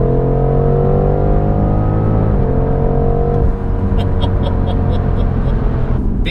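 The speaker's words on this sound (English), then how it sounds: "a lot of engine noise coming out of the speakers. It doesn't sound bad, but you can tell that it is sort of fake." A 2018 BMW M550i engine revs and shifts in manual mode, heard from inside the cabin as a steady, loud rumble with rising pitch and a clear drop at each gearchange, partly synthesized through the speakers.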